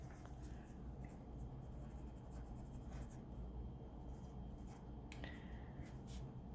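Pencil scratching across paper while signing and dating a contour drawing, a soft close-up scribble of short strokes over steady low background hum, with no talking.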